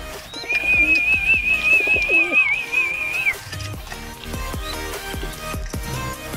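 Pigeons kept by a bird raiser in the Philippines give a sustained whistling call with a wavering tone for about three seconds, followed by softer cooing and scattered clicks and handling noises nearby.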